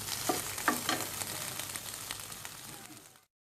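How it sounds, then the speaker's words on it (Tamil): Indian oregano (karpuravalli) leaves sauté in a hot pan with a steady, close sizzle and a few louder crackling pops near the start, gradually easing before cutting off, with no talk. "கற்பூரவள்ளி இலையை அரை நிமிடத்திலிருந்து 1 நிமிடம் மட்டுமே வதக்கணும்"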